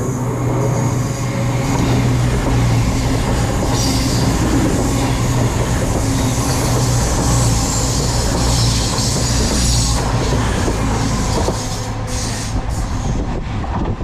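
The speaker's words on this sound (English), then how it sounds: "coming through now is a cross-country service to Manchester Piccadilly" A cross-country passenger train heading for Manchester Piccadilly passes close by on the West Coast Main Line, a loud sustained rumble with wheel clatter and some squeal building and holding throughout.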